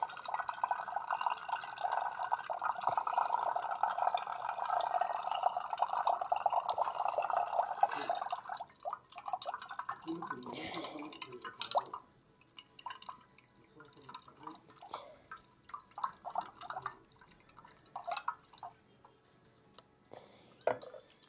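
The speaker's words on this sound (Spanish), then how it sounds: "Ahí está botando en agua." An LG Mini Turbo Drum washing machine drains water with a soft, steady rushing flow for several seconds, then gives way to quieter trickles and drips.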